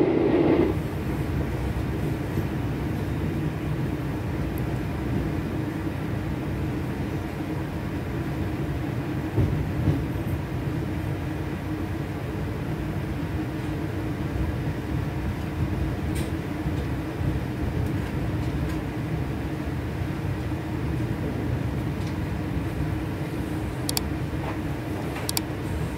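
Argo Cirebon passenger train heard from inside as it runs and rolls into Haurgeulis station, with a steady low rumble and faint track clatter throughout and no talking.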